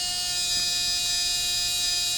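Small RC electric motor spinning steadily on a bench during an RPM and KV check, a constant high-pitched whine with sharp tonal harmonics, close and alone without talk.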